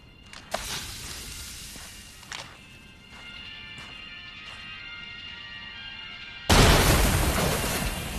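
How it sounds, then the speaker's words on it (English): A fused explosive detonates in a video game: a sudden loud, broad blast erupts late and keeps roaring, following a stretch of quieter game noise with a few scattered knocks and thumps. "Stick the fuse into the explosive, then activate it."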